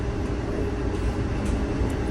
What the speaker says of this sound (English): We're on this Amtrak train going through Georgia